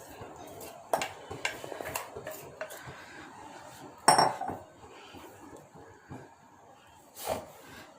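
Flour being mixed into boiling water in a pot, heard as intermittent clanks and scrapes of a utensil against metal, a few sharp knocks standing out over quiet background, close by.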